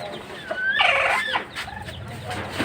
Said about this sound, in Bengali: দেখায় মুরগির পরিস্থিতি ওরা কী হালে আছে একটু দেখায়